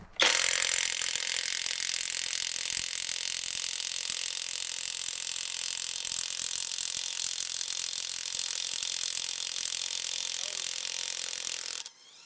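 A cheap Amazon impact wrench runs continuously on semi truck lug nuts, a loud, steady buzzing hammer that starts abruptly and keeps an even rattling drone for about eleven seconds before cutting off.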